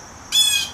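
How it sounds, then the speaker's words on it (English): A single loud, harsh bird squawk bursts out suddenly after a quiet moment, close and piercing. "That's a loud bird."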